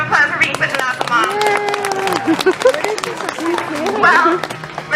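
A zoo audience at a Denver Zoo sea lion show claps in scattered bursts of applause, mixed in under a presenter's amplified voice that continues throughout.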